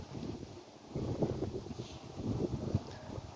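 Strong wind buffets the microphone in gusty, rumbling bursts at an overlook on the Bocimi toll road construction site in Indonesia, loud low-frequency roar and surging throughout with no talking.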